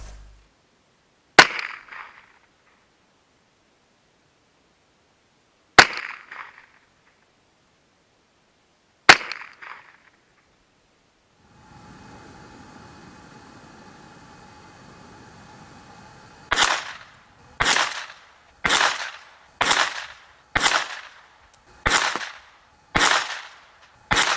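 A Kriss Defiance DMK22C semi-automatic .22 LR rifle fires outdoors at a target range, three spaced shots, then a mechanical whirring pause, then a rapid string of about eight sharp cracks.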